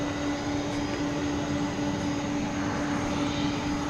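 An American Airlines jet takes off from runway 18 left at DFW Airport at night, a loud, steady engine roar with a constant whine that holds through the whole stretch.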